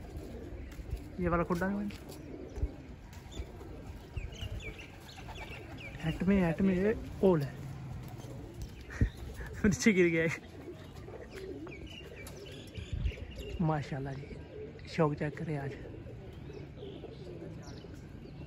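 Pet pigeons coo in their coop in soft, repeated rolling calls that come and go. Someone speaks over them nearby for most of the time.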